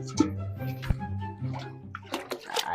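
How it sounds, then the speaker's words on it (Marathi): Water poured from a barrel into buckets, with splashing, dripping and sloshing in close irregular bursts, fairly quiet and with no talk over it. "बर बर देतो की बादल्या सगळ्या भरून द्या"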